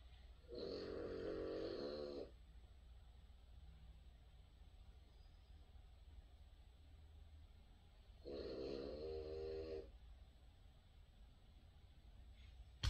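Two loud, rasping snores about seven seconds apart, each lasting roughly a second and a half, with near-silence between them and no talking.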